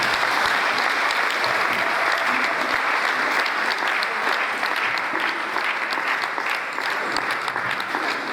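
Steady, dense applause from a large audience at an annual public lecture after a college provost declares the session open, loud and continuous for several seconds with no break.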